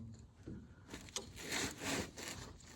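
A flaring tool's cone is pressed down onto a clamped, rusty steel brake line, giving scraping, rubbing metal-on-metal grinding in a few uneven strokes with a sharp click partway. It sounds close and moderately loud, with no talking.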